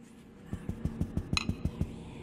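Evenly spaced metallic clinks repeat about eight times in a steady rhythm in the game Pocket Mirror, moderately loud and close, one brighter ring standing out midway, over a quiet ambient hum.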